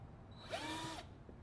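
A power drill bores into a pumpkin during carving, a single loud whirring burst of about half a second, close up and alone, with no talk over it.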